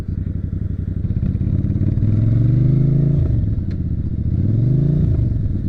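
A new motorcycle on a ride, its engine droning steadily with audible revs rising and dropping as gears shift, alongside clattering mechanical and road noise up close, with no talking.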